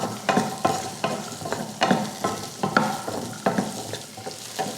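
Shallots, garlic and ginger sautéed in oil, with a steady sizzle punctuated by rhythmic scraping spoon strokes about twice a second, close and clear with no talking.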